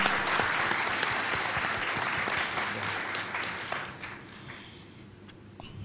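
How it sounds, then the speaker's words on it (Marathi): An audience at an evening music program breaks into full applause, dense clapping that is loud at first and then gradually thins and fades away over several seconds. "आपण मंदारजींसाठी पण एक जोरदार टाळ्या देऊया."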